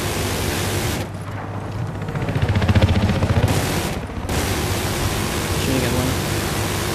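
Steady automatic 7.62 fire from a Huey helicopter's door gun aimed at a tank in Battlefield 4, a hissing rapid stream over rotor noise, with short breaks and voices under it.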